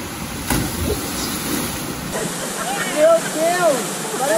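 Natural waterslide waterfall in Paraty, Brazil, a steady rushing of falling water heard from the bottom of the falls, with voices talking over it.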